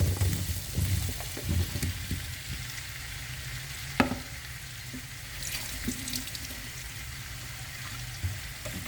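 Garlic fries in oil with a steady close sizzle, broken by occasional stirring scrapes and a sharp clink of a utensil against the pan.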